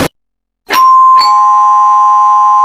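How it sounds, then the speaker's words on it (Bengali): A doorbell rings in a cartoon, two loud chimes struck in quick succession, the second tone ringing on and slowly sustaining, with no voices. "গিয়ে দরজায় কলিং বেল চাপলো।"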